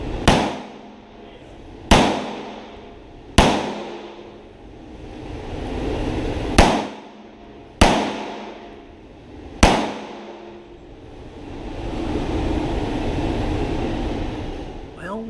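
Six sharp revolver shots crack out one by one at an IDPA pistol competition stage, spaced roughly a second or two apart with echoing decay, followed by a stretch of muffled outdoor noise.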